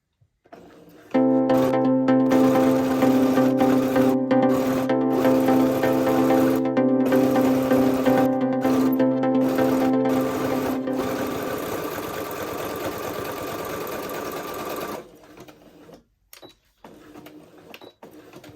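A sewing machine runs a 3/8-inch seam allowance along the edge of a roller derby helmet cover. It stitches steadily and close for about fourteen seconds, slows slightly near the end, then stops, leaving quiet handling sounds.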